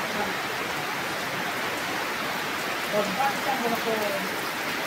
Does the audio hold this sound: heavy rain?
yes